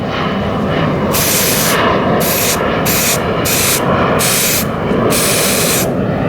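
Loud, close hissing from an aerosol can of Citadel Contrast primer in a series of bursts of varying length, sprayed outdoors over steady wind-like noise.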